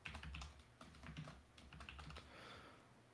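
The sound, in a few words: typing on a computer keyboard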